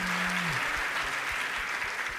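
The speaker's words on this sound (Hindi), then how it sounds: "अब बजाओ ना ताली।" An audience at a Jain monk's religious discourse breaks into steady, dense applause that fills the whole moment, with a brief voice at the very start.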